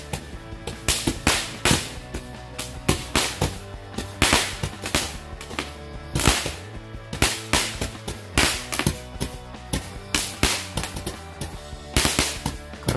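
Magic bar firecrackers (mercon) go off in a rapid string of loud, sharp cracking bursts, near and continuous, with irregular clusters of pops and no voices.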